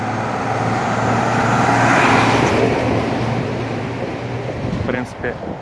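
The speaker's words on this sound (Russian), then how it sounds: "Пожарники едут." A fire engine driving past on a street in a provincial town in Buenos Aires province: a broad engine and road roar swells to its loudest as the engine goes by, then fades into street noise. Voices can be heard nearby.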